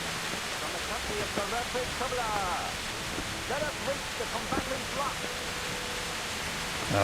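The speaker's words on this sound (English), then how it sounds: "Look, the rain's too loud." Heavy rain pours in the video game Kingdom Come Deliverance as a dense, steady hiss through the whole scene, with voices talking under the downpour.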